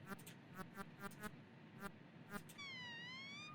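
A cat in the Conquests of the Longbow video game gives one drawn-out, wavering meow near the end, after a run of choppy, clipped game sounds.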